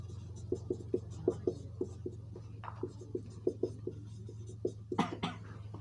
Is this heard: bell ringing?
no